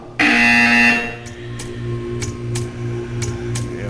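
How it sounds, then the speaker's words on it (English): An electronic buzzer tone in the Portal 2 video game sounds loudly for about a second, followed by softer repeating beeps over a low steady hum. "You will hear a buzzer."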